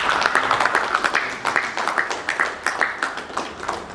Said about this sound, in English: Give Timothy a round of applause.